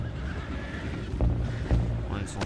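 A horse in Red Dead Redemption 2 whinnies on a boat, with a couple of short neighing bursts over a steady background rumble and game voices speaking.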